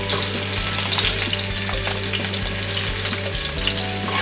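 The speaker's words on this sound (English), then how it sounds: "Now I'm gonna add 3 tablespoons of garlic." Garlic frying in a pan as the sauce for a seafood paella begins, a loud, continuous close sizzle with faint stirring, no talking.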